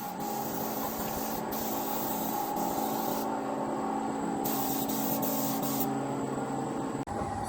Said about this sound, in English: I'm going to start priming it now.